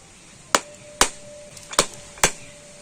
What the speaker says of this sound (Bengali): একটু এইভাবে মারলে কত সুন্দরভাবে নারকেলটা ফেটে যাচ্ছে